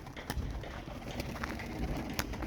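A blue crested racing pigeon coos softly and repeatedly in a loft, low throaty calls over a steady background hum with a few sharp clicks.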